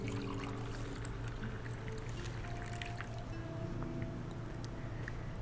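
A glass filled with a drink in a video game barroom: a steady liquid pour runs over a continuous hum of ambient game music and low background tones, with no voices.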